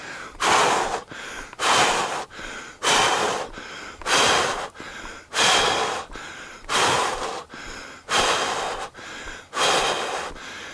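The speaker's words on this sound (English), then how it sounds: "I want to sprint again, but gotta catch my breath first" A runner catching their breath after sprinting during a 5K run takes heavy, rhythmic gasping breaths, about eleven loud inhale-exhale cycles close to the microphone, with no talking.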